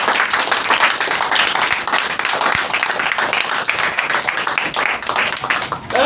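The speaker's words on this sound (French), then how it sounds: "Il faut applaudir à le bon Dieu." A group of people clap continuously, with a dense, fairly loud patter of hand claps throughout and what may be voices mixed in.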